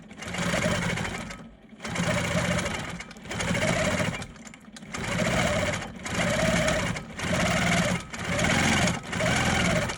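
Free-motion quilting of hexagon patterns on a sewing machine: a close, loud, steady whirring hum runs in about seven even bursts, each a second or so long, separated by brief pauses.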